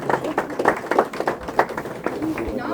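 An audience at a Philadelphia town hall meeting with Mayor Cherelle Parker breaks into clapping, a brief burst of scattered hand claps with uneven rhythm, moderately close, over a low room murmur.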